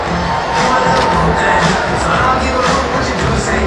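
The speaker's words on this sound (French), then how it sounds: "Donc c'est une foule" A huge crowd of tens of thousands at a political convention roars and cheers continuously, a loud, dense wall of voices with swelling peaks, heard close and unbroken.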